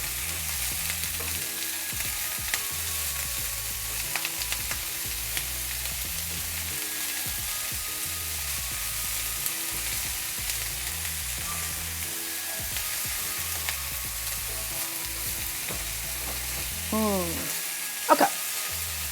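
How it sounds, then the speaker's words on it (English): Chicken and broccoli saute in a pan with a constant close sizzle and hiss, broken by occasional stirring clacks and a brief louder knock near the end. "This should just be sauteing"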